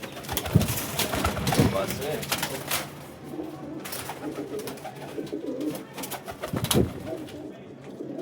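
High-quality champion pigeons coo in low, throaty repeated calls close by, with someone briefly speaking over them and faint rustling in the background.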